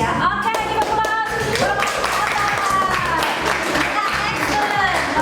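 Students in a classroom clapping together in a steady burst of applause lasting several seconds, close and lively, with voices mixed in.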